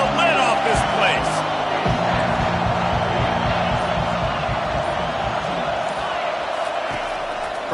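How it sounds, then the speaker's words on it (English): A stadium crowd roars at a football game, a steady loud wash of noise that swells behind a commentator's talk, with a few thuds cutting through. "this crowd is tearing the lid off this place"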